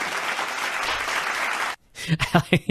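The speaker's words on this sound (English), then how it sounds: "Applause there at the end." Applause at the end of a political campaign ad, a burst of crowd clapping that cuts off abruptly, followed by someone talking.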